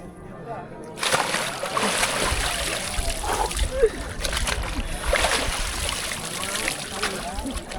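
Bathers dunking repeatedly in icy Ganges water at the Prayagraj Kumbh Mela, with close splashing and sloshing in repeated bursts after a quiet start, voices talking through it.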